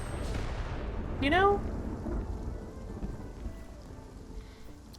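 Thunderstorm in the video game Spiritfarer: steady rain hiss with a rumbling thunder swell, while a voice speaks briefly over a gliding musical tone.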